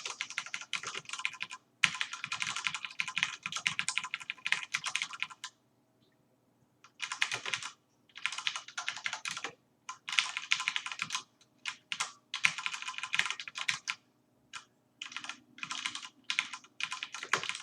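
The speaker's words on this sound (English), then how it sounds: "So I bought a new mechanical keyboard at work" Typing on a mechanical keyboard at work: rapid clacking bursts of keystrokes separated by short pauses, close and clear, with no voices.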